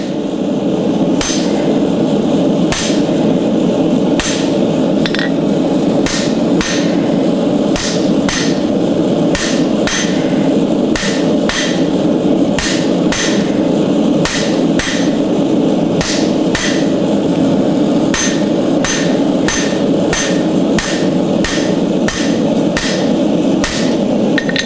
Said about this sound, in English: I'm going to pick my hammer up to hit the center of that tool